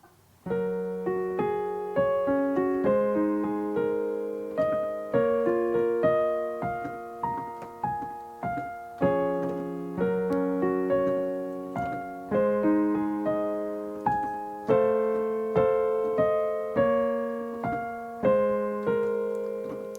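Solo piano plays a full verse of a song from The Super Mario Bros. Movie, steady chords and a melody line moving along at a moderate pace, with no voices.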